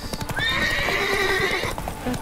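Wild horses in The Witcher 3 gallop with rapid hoofbeats while one lets out a loud, rising and falling whinny close by.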